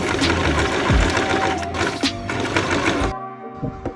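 An overlock sewing machine stitching the sides of a fabric pocket, a loud continuous mechanical whir that runs for about three seconds, then cuts off to near quiet.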